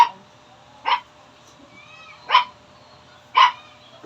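A pet dog barks three separate times, sharp single yaps spaced about a second apart, fairly close against a quiet indoor background.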